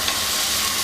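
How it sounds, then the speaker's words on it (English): Peas and potatoes frying in oil scented with hing and fennel, a brief, steady close-up sizzle with no pauses or voices. "the peas and potatoes fry off in the aromatic oil for some time"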